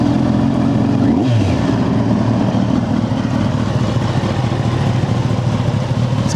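A Kawasaki Ninja ZX-10R sport motorcycle engine runs loud and steady, with a short rising rev sweep near the start, then settles into a continuous throbbing idle close by.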